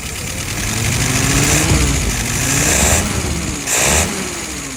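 Engine idling at low revs, a steady rumbling drone held close and fairly loud, with brief swells in level as it runs.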